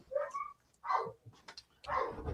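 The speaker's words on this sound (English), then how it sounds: "now I can hear the dog there" Othello the dog barks and whines in a nearby room, a few uneven, yappy bursts separated by short pauses, fairly clear and not under talk.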